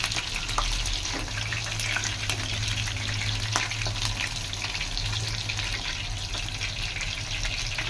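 Chicken pieces frying for a dhaba-style Rambha chicken curry, a loud continuous sizzle with crackling spatter close up and a low steady hum beneath, no talking.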